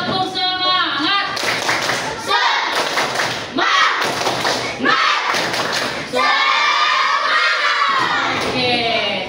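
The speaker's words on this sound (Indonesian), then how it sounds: "Sekali lagi tepuk semangat." A class of children chant together in a loud, rhythmic spirit clap, with sharp synchronized claps and thumps and shouted voices filling a classroom.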